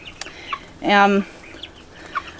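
A backyard chicken in a run, hen or rooster unknown, gives one loud, drawn-out cluck that rises above soft background noise, with a couple of faint shorter clucks before and after it.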